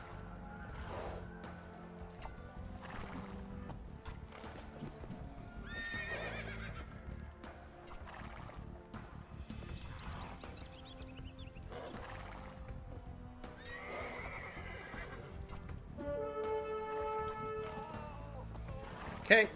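Cavalry horses in a medieval strategy video game, hooves clip-clopping in a busy gallop with repeated neighs and whinnies over a layered game soundscape, with a faint voice underneath.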